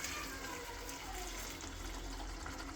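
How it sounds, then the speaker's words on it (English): Water poured into a pan of simmering chicken naga curry makes a steady gushing splash that runs for nearly three seconds, close and continuous, with a low rumble beneath it. "what I'm going to do is add a little bit of water"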